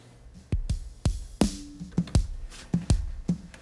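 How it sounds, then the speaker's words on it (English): A kick and snare drum group squashed hard by a DBX 160 compressor in a church live mix, alternating punchy low thumps and sharp smacky snare hits in a steady groove, close and loud with no talking. "And this kick and snare group sounds like this."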